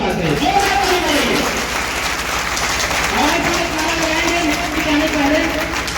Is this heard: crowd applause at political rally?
yes